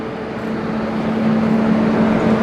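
Steady low engine drone with a constant hum, a tour bus idling nearby at a WWII submarine museum, continuous and unchanging, no voices.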